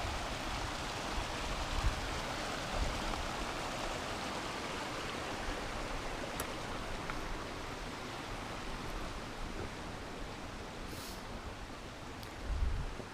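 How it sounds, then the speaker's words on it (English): Steady rushing water of Roaring Creek running right beside a rocky hiking trail, a constant broadband wash that stays close and even throughout with no voices. "the trail once again runs right by Roaring Creek"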